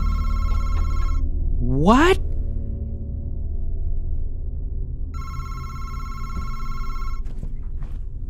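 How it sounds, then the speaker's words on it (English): A telephone rings in a horror video game, with repeated bell bursts near the start and again midway through. A sweeping game sound and low background rumble run underneath, and a voice speaks briefly. "Where is the phone here?"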